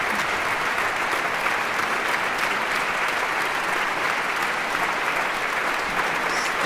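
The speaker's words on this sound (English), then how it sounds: "Standing ovation" A standing ovation after an orchestral performance of Sibelius's Nächtlicher Ritt und Sonnenaufgang, dense sustained applause from a large audience, loud and even from start to finish.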